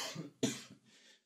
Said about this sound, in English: I really have a bad cough right now